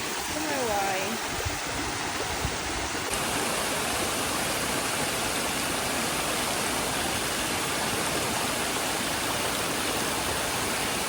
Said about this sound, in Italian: siamo arrivati alle cascate